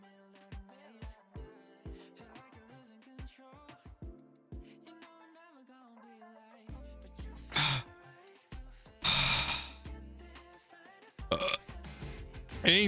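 A person burping repeatedly, a series of short gurgling belches early on and then several longer, louder, croaking burps with breathy gasps between them, close and unaccompanied by talk.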